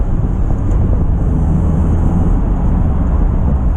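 Mazda MX-5 with its interior stripped out, engine droning steadily while driving with heel-toe rev matching, a loud continuous low rumble mixed with road and wind noise, no voices.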